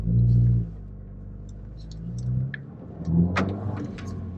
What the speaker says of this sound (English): And then the car sounds way better. The exhaust claps are open.